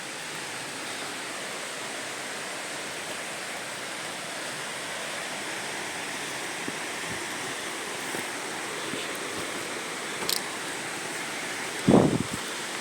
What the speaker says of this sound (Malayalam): ഇതാണ് തുഷാരഗിരി വെള്ളച്ചാട്ടത്തിൻ്റെ മൂന്നാമത്തെ പോയിൻ്റ്